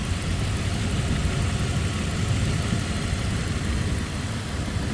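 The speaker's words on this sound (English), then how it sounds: "You can hear it sucking air in when you give it a little gas." Steady engine drone with broad airy hiss from a 1998 Dodge Dakota as it draws in air under light throttle, moderately loud and continuous with no talking.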